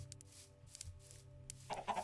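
Chicken clucking in modded Minecraft, a few quiet, short clucks over a low background hum, ending in slightly louder squawks.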